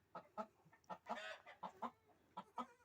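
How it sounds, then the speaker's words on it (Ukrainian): Chickens cluck in agitated, rapid bursts, a flurry of short squawks close by, with one longer squawk in the middle. "Курки налякали, кричать, курки налякали."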